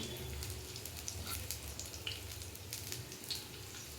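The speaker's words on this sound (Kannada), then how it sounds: "ಬೆಳ್ಳುಳ್ಳಿ ಜಚ್ಕೊಂಡಿದ್ದು ಹಾಕ್ಕೊಳ್ಬೇಕು ಸ್ವಲ್ಪ ಕೈ ಆಡಿಸ್ಕೊ ಹೀಗೆ" Crushed garlic sizzles in hot oil in a pan while being stirred, a dense, even hiss with small crackles and pops throughout, heard alone at low volume.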